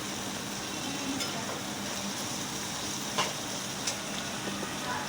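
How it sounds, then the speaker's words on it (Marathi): An onion mixture stirred as it fries in a pan on a hot gas stove gives a steady low sizzle broken by a few light scraping clicks of the spoon, fairly quiet throughout. "सर्वांचं मिश्रण गरम गॅसवरती मिश्रण करून घ्यायचं आहे"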